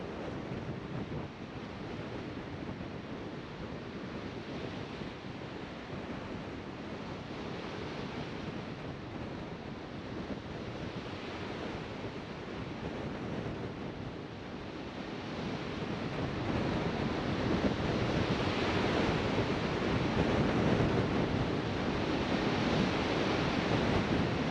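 Waves wash onto a Lake Huron-style beach at Pinery Provincial Park in winter, a continuous broad rushing surf mixed with wind noise on the microphone, steady throughout and swelling louder in the last third.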